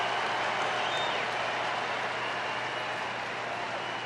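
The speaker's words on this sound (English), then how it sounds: "Nice round of applause for Goldie" Baseball stadium crowd applauding Cardinals slugger Goldschmidt, a steady broad wash of clapping and crowd noise that holds evenly throughout without pause.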